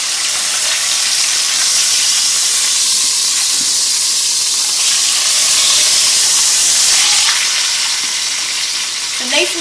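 Pot roast sears in a hot pan, a steady broadband sizzle and hiss of frying that runs unbroken and fairly loud throughout, with faint clatter near the end.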